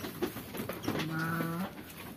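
A Garut sheep on a small village farm in southern Cianjur gives a single drawn-out bleat with a wavering, nasal quality, fairly quiet against a soft rural background with scattered faint clicks and rustles.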